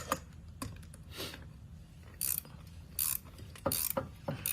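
Wrench working a suspension bolt loose on a 2005-2013 Toyota Tacoma X-Runner during a drop kit install, giving sharp metallic ratcheting clicks in short, irregular bursts, close up and fairly quiet.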